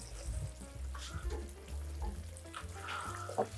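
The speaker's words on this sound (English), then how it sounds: "I'm gonna let this simmer for maybe like 3 to 5 minutes at a really low temperature." Beef liver simmers over very low heat in a 12-inch cast iron skillet, giving a soft, continuous close sizzle with faint stirring scrapes.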